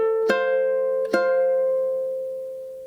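Two plucked ukulele notes played fingerstyle, the first measure of the lullaby Hush Little Baby, each ringing out clearly and sustaining to a slow fade.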